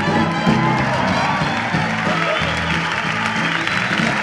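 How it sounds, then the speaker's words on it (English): A concert crowd at the Capitol Theatre in 1976 applauds and cheers, a steady wash of clapping and whoops that stays loud throughout, with some voices mixed in. "Wait, all right, wait, that's enough applause."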